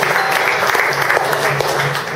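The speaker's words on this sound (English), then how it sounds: "I want to give a big round of applause to both Ning Shi and John Piekos" Audience applause at a database technology meetup, a dense, steady wash of many hands clapping together, loud and close, continuing evenly without any talk over it.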